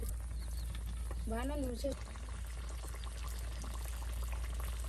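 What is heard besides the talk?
rain falling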